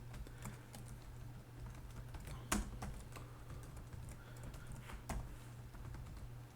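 Someone types on a computer keyboard while building a spreadsheet financial model, producing soft, steady key clicks with a few sharper taps, close by over a quiet background hum.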